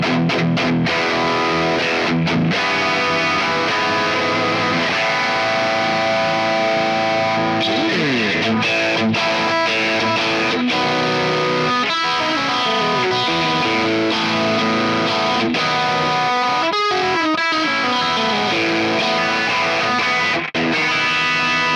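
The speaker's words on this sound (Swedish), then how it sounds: "Finns det någon gain, lite high gain patch som du har satt ihop?" A high-gain guitar patch on a NUX MG30 multi-effects pedal, heavily distorted chords and riffs played continuously and loud for the whole stretch, no voices.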